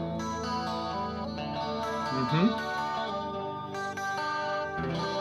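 Electric guitar chords played through a '65 spring reverb amp model, drenched and splashy, with a brief pitch-bending warble midway, no voices.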